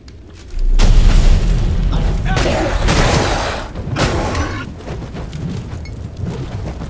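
A loud, booming gunshot blast in the video game Lords of the Fallen erupts and rings out with a long rumbling tail, followed by softer crackling impacts and muffled rumbles.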